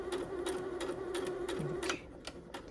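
A Singer C7255 home sewing machine stitches fabric in a steady clatter of needle strokes, a motor whine underneath, the pace shifting before it cuts out and a few quicker ticks follow.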